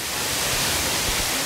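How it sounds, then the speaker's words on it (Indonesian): The top tier of a waterfall on Wawonii Island roars as a dense, steady rush of falling water, loud and close with no pauses or voices. "Ini dia air terjun tingkat paling atas di mana akan ada canyoning."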